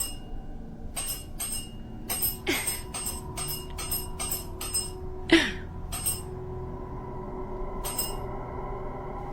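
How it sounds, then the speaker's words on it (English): A small bell is struck about a dozen times in an irregular pattern, each ring short and bright, with a quiet room hum in the background and no talk. "you hit the bell when I say the book you want me to read"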